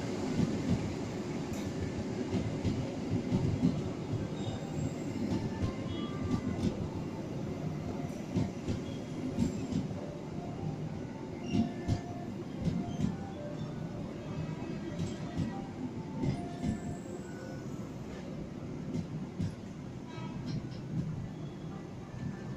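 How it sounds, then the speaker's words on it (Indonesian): The Fajar Utama Yogyakarta train hauled by a CC 201 diesel locomotive rolls into a station platform, a steady rumble of engine and wheels with faint rail clatter, heard at moderate distance with a station announcement over it. "Masuk jalur 5 kereta api Fajar Utama Yogyakarta"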